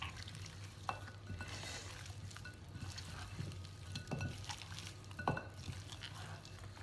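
Seasoned meat coated with saffron being stirred in a pan, a steady sizzle with soft scraping and a few sharper clinks of the utensil against the pan, continuous and close with no talking.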